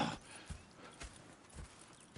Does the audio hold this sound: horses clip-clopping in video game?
yes